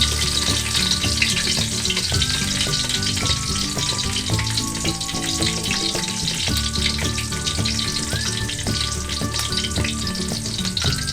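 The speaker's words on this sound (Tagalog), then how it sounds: "Ilagay na po natin yung bawang. Hayaan po natin siyang mag-golden brown." Garlic sautéing in oil in a pan, a continuous dense sizzle with soft crackles and occasional light stirring scrapes, close and steady throughout.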